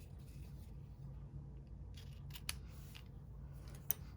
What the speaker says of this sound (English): Just a little bit of snips here, and let me trim that down to size.